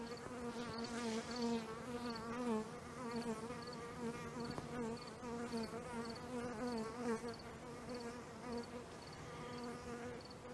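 Honey bees swarm around a leaking garden hose, their dense, continuous buzzing close and loud, with overlapping wingbeat drones rising and falling throughout.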